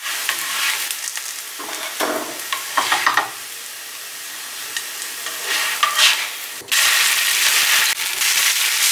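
Potato and egg pancakes frying in a pan give a steady, loud, close sizzle, with a few brief scraping or clattering touches partway through.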